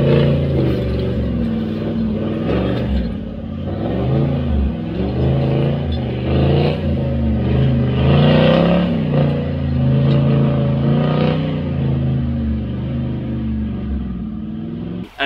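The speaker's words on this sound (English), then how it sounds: "it came with a three inch mild steel exhaust. Oh, yep. When I bought it, and I just deleted the muffler out of it" Toyota Land Cruiser VDJ78 Troopy with a three-inch mild steel exhaust and the muffler deleted, a deep, loud rumbling engine note that rises and falls through repeated revs, close up over about fifteen seconds without talking.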